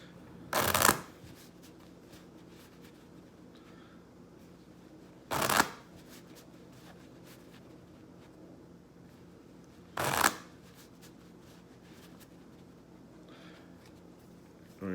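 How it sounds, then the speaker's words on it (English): A deck of playing cards shuffled at a blackjack table, three brief crisp riffle bursts spaced about five seconds apart, close and clear against a quiet room hum. "We're going to shuffle one more time."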